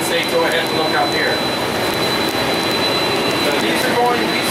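A jet airliner's engines roar steadily at Toronto Pearson as the aircraft is marshalled in, a loud broadband rush with a thin high whine throughout, while someone talks over it.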